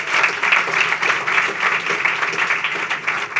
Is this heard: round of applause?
yes